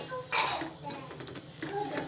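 A peanut and sugar mixture is stirred in a pan over a low flame for chikki, giving light metallic scrapes and clinks of a spoon against the pan, with a faint voice in the background.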